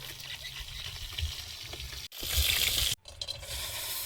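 Bori lentil dumplings frying in a pan give a steady sizzle with faint stirring, rising to a louder hiss midway, broken by two brief silences.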